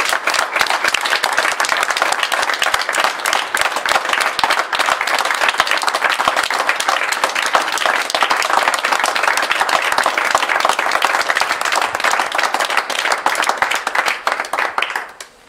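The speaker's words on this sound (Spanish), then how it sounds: "eu, en agradecemento a eles, lle daría un fuerte aplauso." Strong, sustained applause from an audience at a memorial tribute in Vigo fills about fifteen seconds, a dense and steady roar of many hands clapping close by, and it stops abruptly at the end.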